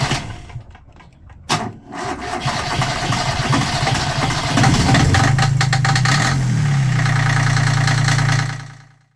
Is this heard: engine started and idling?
yes